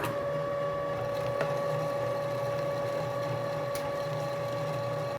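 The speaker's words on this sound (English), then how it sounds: "Now we're gonna go ahead and grind this for the second time through a finer plate." A meat grinder runs an 80-20 beef and fat blend through a finer plate on a second pass, its motor giving a steady, close, high-pitched whine with an even hum that cuts off abruptly at the end.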